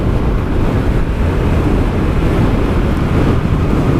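Strong wind buffets a rider on a dual sport motorcycle behind a homemade windscreen in Tasmania's Central Highlands, a loud continuous low roar and rumble with no break.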